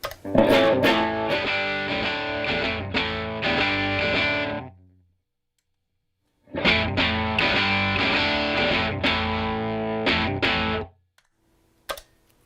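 Slightly distorted electric guitar with Seymour Duncan 59 humbuckers played through a pedal, loud strummed chords in two long bursts separated by a silent gap, ending with a brief pluck.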